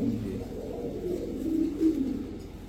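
Male pigeons coo continuously in low, throaty, rolling murmurs, close by and steady for a few seconds.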